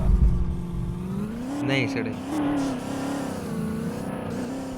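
A Mahindra Scorpio engine revving and surging with rising and falling pitch, loud and close, with excited voices talking over it.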